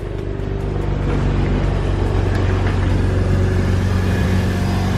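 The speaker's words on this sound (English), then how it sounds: "motor sounds healthy" A Mazda RX-8 rotary engine runs loudly and steadily nearby, a continuous deep rumbling drone with a constant idle hum.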